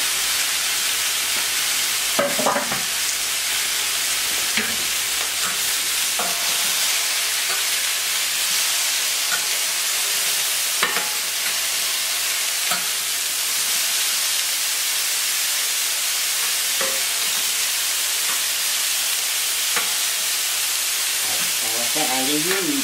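Pink Roscoff onions frying in a pan, a continuous bright hiss of sizzling with a few sharp clicks and stirring scrapes, steady and fairly close throughout.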